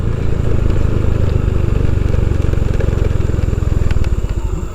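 An automatic scooter's engine keeps chugging loudly and close after the engine cut-off switch is thrown. Its steady putter turns into slower, more separate pulses toward the end.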